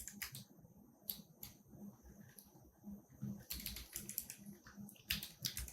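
Keys clatter on a computer keyboard as a number is entered while working through a Python programming exercise, with irregular bursts of close, moderately loud keystrokes and short pauses in between.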